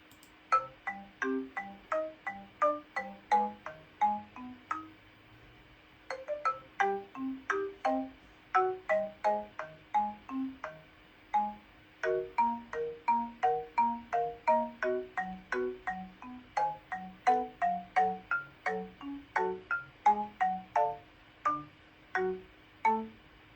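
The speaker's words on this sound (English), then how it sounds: "that is the Dragon Prince theme on chromemusiclab" The Dragon Prince theme played on Chrome Music Lab's Song Maker, a flowing melody of bright, clean synthetic tones in quick even steps over simple low notes, with no percussion and nothing else heard.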